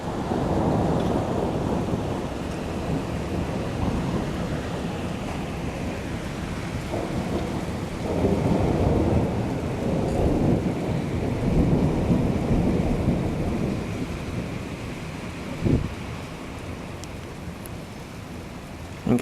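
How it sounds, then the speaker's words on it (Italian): A spring thunderstorm at Quartu Sant'Elena with steady rain and rolling thunder, deep rumbles swelling and fading through the whole stretch, plus a sharper crack near the end. "Sono veramente grandi questi fulmini"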